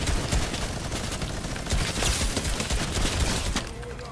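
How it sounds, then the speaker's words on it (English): Sustained gunfire from the video game Fortnite, with dense rapid bursts of shots overlapping continuously for several seconds at steady high loudness. "Are they shooting at you?"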